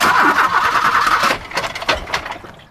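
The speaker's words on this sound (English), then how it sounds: "It's no good. I can't start the engine." A car engine cranks loudly for over a second without catching, then sputters and coughs in uneven bursts that die away, heard close and alone without talk.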